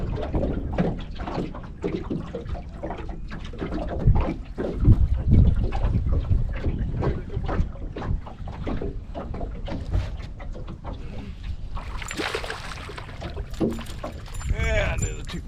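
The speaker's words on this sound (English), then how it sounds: "Wind started blowing again." Wind gusts over a lake during bass fishing from a boat, buffeting the microphone with heavy, uneven low rumbles, while people talk close by and water and boat knocks come through now and then.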